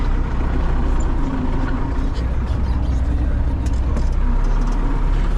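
A farm vehicle pulls up during soybean sowing, its engine a loud, steady, close rumble throughout, with voices talking over it.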